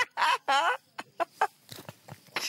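Ducks and farm fowl on a French celebrity farm show: a few loud, close, harsh squawks and quacks in quick succession, followed by fainter scattered calls and noises.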